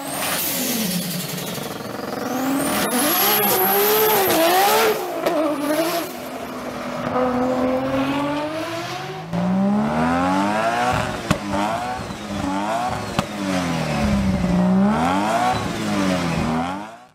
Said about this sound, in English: a legendary engine known for being super tunable and also known for its beautiful exhaust note